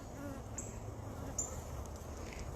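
Honey bees buzz steadily in an open backyard hive while the keeper hunts for the queen, a continuous low hum with a couple of brief sharper insect whines passing close by.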